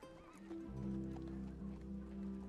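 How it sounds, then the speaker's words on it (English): Horses neigh and whinny loudly over steady hoof clip-clop in a scene from The Last of Us episode 6, with a long whinny rising over a low continuous rumble and no talk. "Is one of these horses gonna be Callus?"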